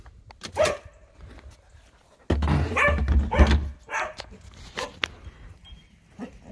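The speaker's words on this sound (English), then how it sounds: "So she'll run around and bark and yup" A dog barks and yips in short bursts, fairly close, with a louder flurry midway and quieter whines and movement between barks.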